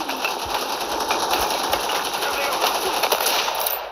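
Rapid gunfire from a shooter video game during a headshot kill, heard as a dense, continuous rattling burst of close, loud shots.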